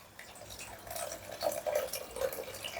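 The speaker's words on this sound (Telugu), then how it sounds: "now add water" Water poured into a pan of chicken Manchurian gravy with coriander, a short gentle splashing pour close up, fairly quiet, no talking.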